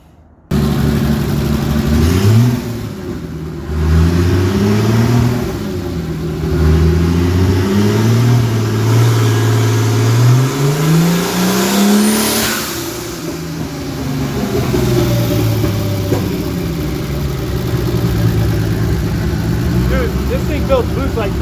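A turbocharged BMW M20 stroker engine with a MaXpeedingRods turbo revs hard under boost, rising and falling through several loud, close pulls, with a voice talking over parts of it.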